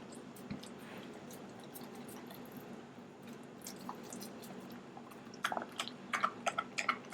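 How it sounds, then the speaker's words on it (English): A German Shepherd puppy gnaws on a raw bone, giving faint, wet squishing and crunching chews that grow into sharper, more frequent bites toward the end, with no talking. "he's trying to get the meat off, but he's also chewing the bone at the same time"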